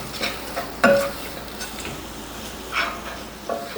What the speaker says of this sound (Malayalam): ഇനി ഇത് നമുക്ക് ഒരു 5 മിനിറ്റ് ഇളക്കി കൊടുക്കാം.